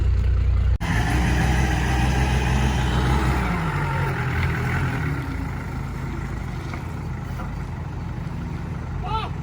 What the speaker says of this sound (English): I just started Gabe's truck